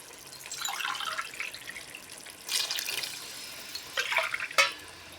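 Water splashes and trickles in a few uneven bursts as it is poured into a cooking pot for mushroom biryani, fairly faint and without talk.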